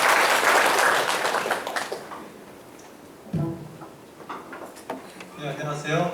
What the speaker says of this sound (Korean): 우리 김종우 교수님 박수 부탁드리겠습니다